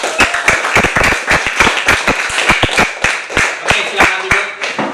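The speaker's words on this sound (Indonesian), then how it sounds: "Oke, tepuk tangan semuanya." A class of children claps hands in a classroom, producing a loud, uneven patter of sharp claps that continues without pause, with little talk underneath.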